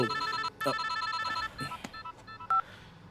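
A telephone rings in an office scene of a dubbed South Indian action-romance film, bursts of trilling electronic ring broken by short gaps and clicks, fairly close and loud, with no talking over it.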